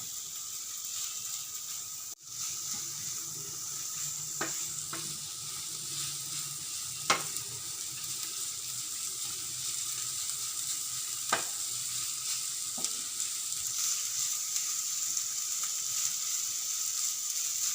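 Ginger frying in hot oil for sweet corn upma, a continuous close sizzle with a few sharp clicks of a utensil against the pan, no talking.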